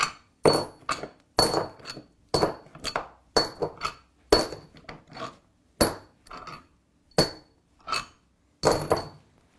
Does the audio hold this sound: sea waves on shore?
no